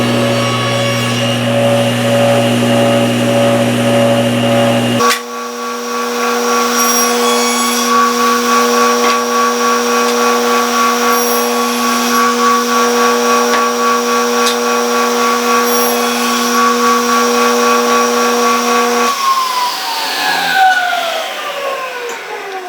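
A table saw cuts grooves in wooden boards, its loud motor hum shifting as the blade bites at about five seconds, a long steady cutting whine following before the motor winds down, no talk.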